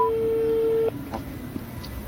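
A telephone tone in an animated comedy: one steady, clear beep holds for nearly a second and then cuts off, leaving a quiet, faintly hissing background.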